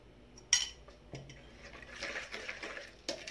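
A spoon clinks against a bowl while stirring yeast, sugar and warm water, giving a sharp initial tap followed by soft scraping and swishing, with a final clink; close and fairly quiet.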